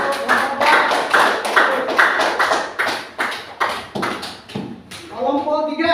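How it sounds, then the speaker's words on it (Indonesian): Hands clap in a classroom, a burst of rhythmic claps from several people that swells and dips, followed by a voice speaking near the end. "Tepuk tangan."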